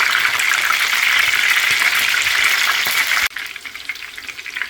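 Chicken chapli kebabs frying in a pan just after being turned, a loud, close, dense sizzle that drops abruptly to a quieter crackle near the end, with no talk.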